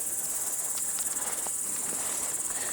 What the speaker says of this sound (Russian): Кузнечики стрекочут.